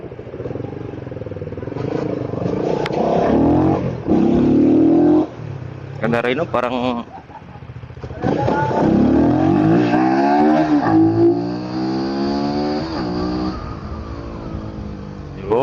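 A Rusi Flash 150x Fi motorcycle engine revs and accelerates loudly, pitch climbing through the gears, while someone talks over it close by.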